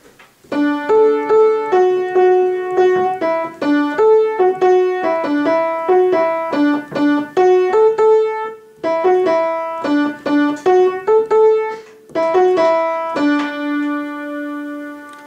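A piano plays the chorus melody of a song in the right hand, a lively single line of short, bouncy notes in a steady rhythm, with brief pauses between phrases.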